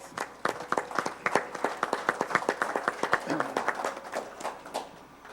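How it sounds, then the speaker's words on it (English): A small audience at a public policy forum gives a brief round of applause: sparse, distinct individual claps in an uneven rhythm, moderately close and fairly light, with no dense crowd roar behind them. "Can you just give them a round of applause, please?"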